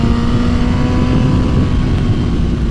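A Suzuki inline-four motorcycle engine idles with a steady, smooth purr, loud and close, holding an even hum throughout.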